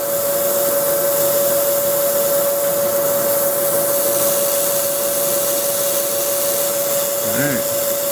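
Compressed air hisses loud and steady over a slow metal lathe cut with coolant, a constant broadband rush holding for several seconds alongside a steady machine hum.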